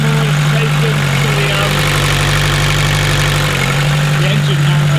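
A 1988 Peugeot 305 fitted with a blown DW8 diesel engine runs close by, a loud, steady idling drone with a constant low hum and rattly texture for the whole stretch.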